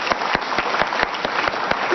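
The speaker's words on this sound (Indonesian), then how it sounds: "Tuh, itu emang tepuk tangan dong." An audience claps at a talk about anti-corruption efforts in Indonesia: steady, evenly spaced clapping at about four beats per second, loud and close, with little voice.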